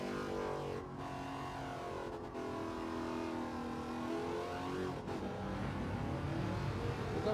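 A Wicked Fabrication GT 51 race car engine in Gran Turismo 7 drones and revs on Grand Valley South, held steady with pitch sweeps as gears change, loud and continuous without talk.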